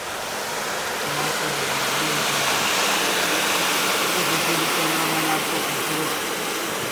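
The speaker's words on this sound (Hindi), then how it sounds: "माशाल्लाह ग्लेशियर का पानी रोड के ऊपर से भी गुजर रहा है।" Glacier meltwater rushing across a mountain road between Naran and Babusar Top gives a steady, loud broadband roar of flowing water, with faint low engine hum beneath throughout.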